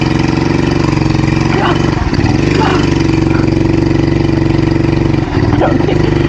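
A Honda dirt bike engine from 1972, ridden by a first-time rider, holds a loud, steady mid-pitched drone with brief dips and surges as the throttle changes.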